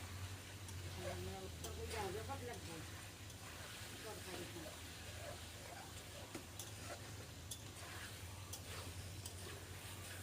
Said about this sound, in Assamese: ইয়াত দেখিছে আপোনালোকে মই ভালকৈ ধুনীয়াকৈ গোটেইখিনি ফ্ৰাই কৰি আছোঁ